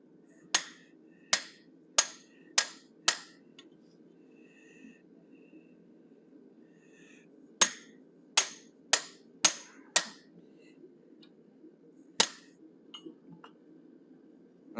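A hammer strikes a 1/8 inch fuller laid diagonally across a forged metal cougar head, ringing metallic blows in a quick run of five, a pause, then another burst of five and a lone final strike, close and clear.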